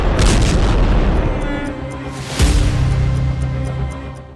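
Heavy booming airstrike blasts in Yemen roll out, a loud one at the start and another sharp, deep explosion midway, each followed by a rumbling decay.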